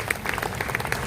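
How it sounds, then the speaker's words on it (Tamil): A church congregation at a novena for Our Lady of Sorrows clapping together, a brief burst of dense, loud applause filling the room. "எல்லாம் ஜோர ஒரு கைத்தட்டுங்க சத்தமா"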